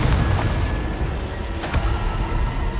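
Confringo spell explosion in Hogwarts Legacy, a dense, continuous booming rumble that swells briefly partway through, close and fairly loud.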